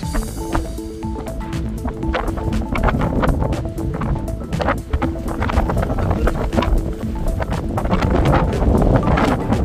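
Strong wind at Sulby Lake buffets the microphone in loud, ragged gusts and thumps, rising and falling unevenly throughout.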